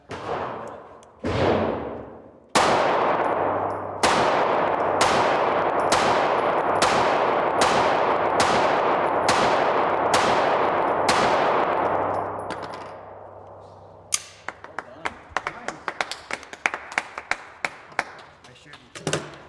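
Pistol shots ring out at a shooting range: about a dozen loud, sharp reports spaced roughly a second apart, followed by a quicker scatter of fainter cracks and clicks.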